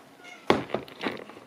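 A cat gives a short meow nearby, followed by a couple of softer, broken vocal sounds.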